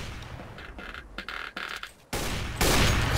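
Video game gunfire aimed at a box: a few scattered shots, then two dense, loud bursts of firing close up, with no talk over them.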